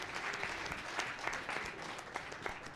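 An audience at a Calgary Innovation Week reverse pitch event applauds Alan Lowe of Two Small Fish Ventures with steady, dense clapping that holds evenly throughout.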